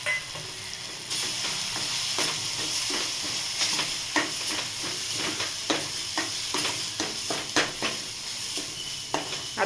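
Onion-coconut masala with coriander powder, garam masala and turmeric sizzles loudly in a hot pan, with repeated sharp scraping strokes of a spoon stirring it throughout.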